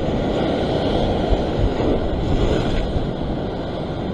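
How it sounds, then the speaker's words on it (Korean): Ocean waves wash in a continuous broadband roar at a rocky fishing spot, steady and close with wind noise on the microphone and no talking. "땡기려면 파도가 이렇게 있네."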